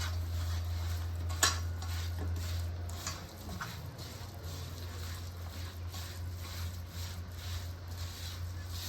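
Jackfruit biryani masala is stirred by hand with mint leaves, salt and chilli, giving soft, irregular squelching and scraping against a bowl, with occasional light utensil clinks over a steady low hum.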